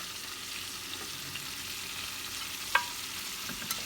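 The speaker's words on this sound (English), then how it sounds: "We're going to add our carrots, onion, and green pepper." Carrots, onion and green pepper fry with cabbage and bacon in a pan, giving a soft continuous sizzle. Stirring sounds come through, with one sharp utensil clink partway through and a lighter tap near the end.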